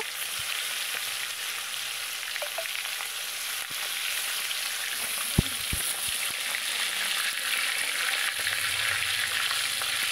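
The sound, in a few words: fish frying in hot oil for tel koi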